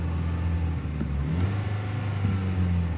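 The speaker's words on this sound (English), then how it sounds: "the engine seems to be running absolutely fine" A Vauxhall Astra GTC with its engine warning light on idles steadily close by, a smooth low hum with a slight rise in pitch partway through and no one speaking.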